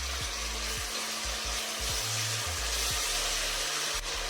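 Onions frying with ginger garlic paste for a pudina rice give off a loud, steady hiss and sizzle that runs without a break, close up, with a low hum below and no talking.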